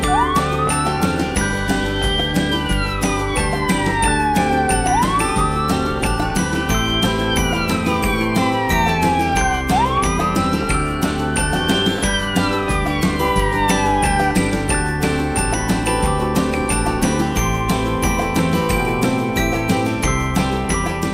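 A wailing ambulance siren rises and falls in repeated sweeps over a cheerful background tune in a Peppa Pig story, loud and continuous with no talking.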